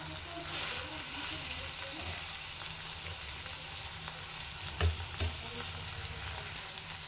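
Radish chutney cooks on a slow flame in a pan, giving a steady, close sizzle throughout. A couple of brief stirring knocks rise just before the five-second mark.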